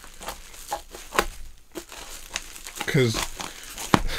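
Packaging is torn open and crumpled at close range, giving crinkling and tearing bursts in irregular spurts, with a person talking in between.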